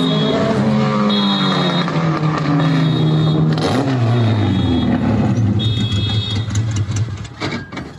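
A car engine revs hard while driving past a shop, loud and close, the revving rising and falling with alarm-like tones, then fading away near the end.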